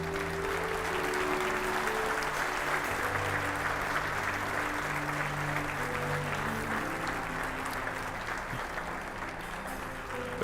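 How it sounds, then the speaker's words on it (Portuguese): Congregation applauding in a church service, a steady broad wash of clapping over sustained low organ or keyboard chords, moderately distant and continuous from start to finish. "Você pode dar ao Senhor mais um forte aplauso."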